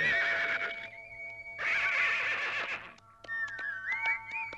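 A horse pulling a cart neighs twice in long, loud whinnies close by, followed by a higher, shakier whinny, with no speech over it.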